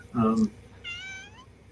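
An F5 Savannah cat gives one clear, drawn-out meow close by, with a person's voice heard just before it.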